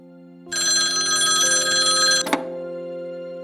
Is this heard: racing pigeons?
no